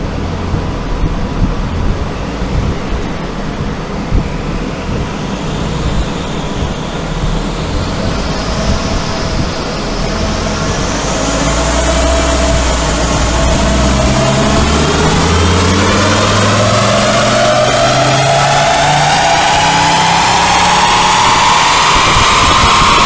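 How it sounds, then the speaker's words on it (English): A Ford S-MAX 2.5T MPV with a Volvo-sourced five-cylinder turbo engine runs on dyno rollers, a steady loud drone whose pitch climbs smoothly as revs build over a long pull, with no talk. "I know everyone goes on about V8s and things, but 5 cylinders sound so good."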